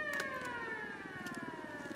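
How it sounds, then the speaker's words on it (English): A wailing air raid siren in the video game Ghost Recon Wildlands holds a steady, slowly falling tone, loud and sustained over low background rumble. "Holy shit, they got an air raid siren?"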